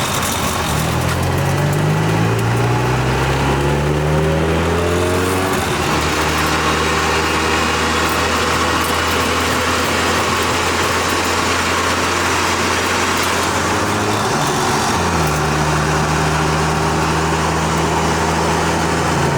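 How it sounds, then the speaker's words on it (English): A car engine on an early morning drive, a loud steady drone that rises in pitch through the gears, drops at a shift and climbs again, heard from inside the car. "Nice casual early morning drive."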